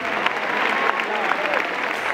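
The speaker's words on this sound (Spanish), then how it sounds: "Un aplauso para él." Audience applauding at a presentation event at Mestalla stadium, a dense burst of clapping from a crowd that stays steady for a couple of seconds.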